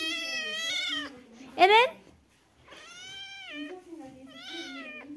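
Two cats meow repeatedly up close, drawn-out rising and falling cries that follow one another, with a person speaking briefly between them.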